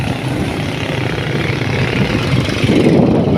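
Yamaha Mio motorcycle engine idles close by with a steady low rumble that grows slightly louder toward the end.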